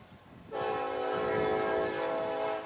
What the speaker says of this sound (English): As you can probably hear, there is a train passing by County Soccer Complex.